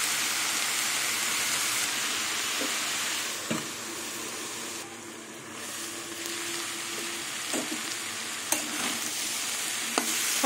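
Pumpkin greens and vegetables sautéing with shrimp and jackfruit seeds in a pan, a moderate, even sizzle with occasional stirring knocks and scrapes, no talk.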